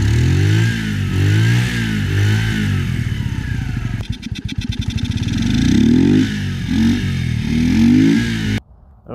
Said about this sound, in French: je voulais vous faire écouter le bruit de la moto lorsque cette pièce est dessus et lorsqu'elle n'y est pas.